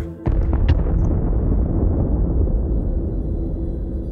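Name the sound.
thunder and explosion sound effect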